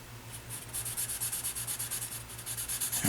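A marker inks a ninja drawing on paper in quick, rhythmic rubbing strokes, close and fairly loud, with no voice.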